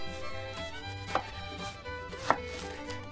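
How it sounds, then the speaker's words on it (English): A knife slices through a tomato on a board, with two sharp cuts standing out against steady low kitchen background hum. "I really don't know how to slice a tomato."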